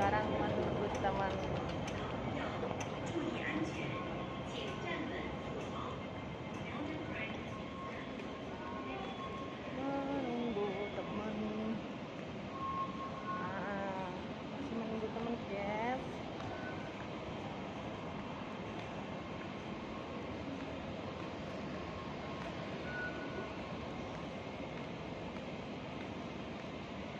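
Trains at a railway station, with a steady mid-level rumble of rolling stock and faint clatter running throughout, while people talk over it.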